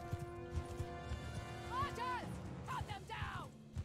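Hooves clip-clop at a gallop amid a busy Mount and Blade 2: Bannerlord battle, with a horse whinnying briefly and voices talking over the action.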